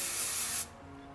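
Hairspray from an aerosol can goes onto styled hair in one steady close hiss that stops abruptly after about half a second, followed by quiet.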